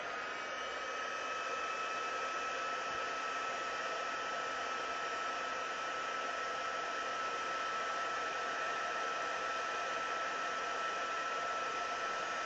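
A heat tool blows hot air onto soft pastel laid on cardboard, a steady, unbroken hiss-like whir that stays constant and close throughout with no voices.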